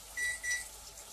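Two short electronic beeps from a kitchen timer being set while chicken is meal-prepped, each a clear high tone about a quarter second long, close and alone with no talking.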